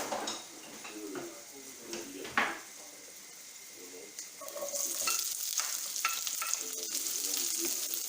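Chopped onions sizzle and fry in a little oil in a pan for a Basque-Périgord piperade, with steady hissing and occasional spoon stirring and scraping, close up and fairly loud, growing brighter partway through.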